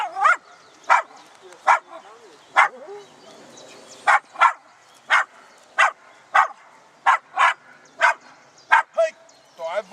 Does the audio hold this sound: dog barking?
yes